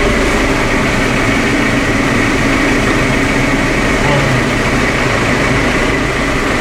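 A farm tractor set to mow a meadow runs with a loud, steady, low engine drone that holds without a break, and a voice may be heard over it.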